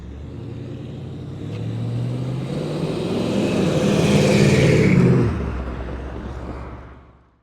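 A 1958 Chevy Del Ray's engine revs up loudly and close, building over several seconds to a sustained roar before cutting off sharply and fading into quiet.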